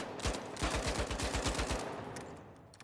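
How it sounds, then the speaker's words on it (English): Lewis gun in the shooter game The Finals firing a sustained automatic burst of about a dozen heavy, evenly spaced rounds, loud and close, with a metallic ring over the shots and a short fading tail. "I'm doing a bad showing of controlling the recoil, but you get the point. The damage is higher on the Lewis gun."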